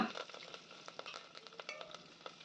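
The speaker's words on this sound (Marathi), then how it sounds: "तेलामध्ये राई जिरं आणि कढीपत्ता घालून घ्यायचा" Mustard seeds, cumin and curry leaves tempering in hot oil for dal: faint, quick irregular pops and crackles over a soft sizzle.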